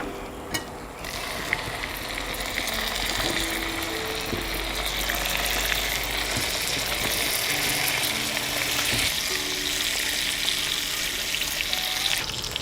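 Chopped tomatoes frying in melted butter in a pan for a tomato and egg omelette, giving a steady, loud, continuous sizzle throughout, with no voices.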